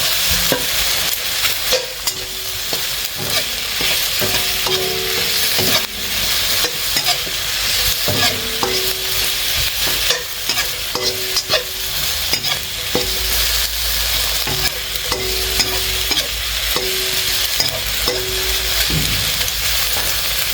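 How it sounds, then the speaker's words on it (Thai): Chinese sausage fries in a pan without added oil, its loud steady sizzle running the whole time under repeated scraping strokes of a spatula against the pan. "พอน้ำแห้งก็ลดไฟนะครับลดไฟเบาๆ แล้วก็ทอดไปเรื่อย ๆ"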